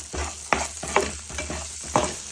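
Spices such as coriander powder stirred through a pan of matki and peas, with a spoon scraping in a few uneven strokes over a soft sizzle close by.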